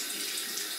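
A bathroom faucet runs in a steady, close hiss of flowing water while someone rinses off after a shave.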